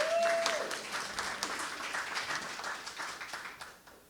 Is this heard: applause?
yes